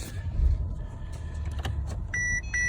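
Interior of a 2013 Mercedes S550 being shifted into reverse: a low idling hum with a few faint clicks, then a repeated electronic warning chime near the end.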